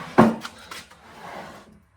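A workshop drawer under a bench sliding with a firm wooden thump followed by lighter knocks and a soft scraping rub that fades away, close and alone without talk.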